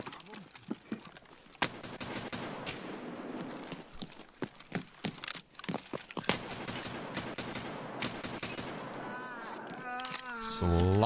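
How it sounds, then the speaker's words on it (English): Bursts of rapid gunfire in Escape From Tarkov, sharp cracks fired in quick strings with pauses between, mixed with someone talking over the shooting. "Sloppy shooting on my part."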